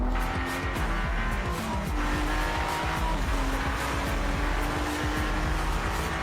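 Ferrari race car driven hard around the Monza track during a Ferrari Challenge race, a loud, steady engine roar with rising and falling revs and tire squeal, close up and without talk.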